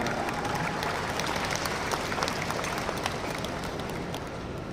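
An audience at a lawyers' congress applauds, a moderately distant, steady patter of many hands clapping that holds evenly for several seconds.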